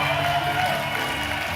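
A large campus audience at a talk on Kampus Merdeka gives a soft, diffuse round of clapping and crowd noise, heard from a distance and fairly faint throughout.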